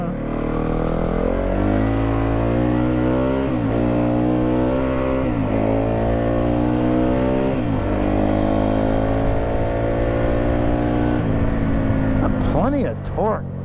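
A 2019 Yamaha WR250F with a 249cc single-cylinder engine revs loudly on a dirt ride, its pitch climbing and dropping through repeated gear changes, with a raspy burst near the end.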